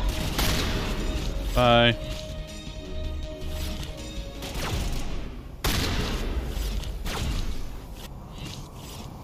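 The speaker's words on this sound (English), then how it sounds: "I'm using my shotgun." Shotgun blasts in a squad-based video game: sharp broadband bursts, one near 1.5 seconds with a ringing metallic tail and another sharp crack near 5.7 seconds, mixed with game noise and people talking throughout.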